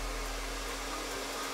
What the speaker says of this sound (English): So you could absolutely run a hairdryer and dry your hair with this.